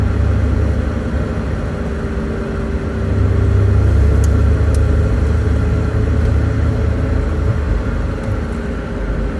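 Steady loud low rumble of a worn Reliant car's engine running, heard from inside through the lowered window, swelling slightly midway and holding steady throughout.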